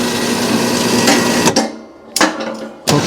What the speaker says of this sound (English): Drop your winch.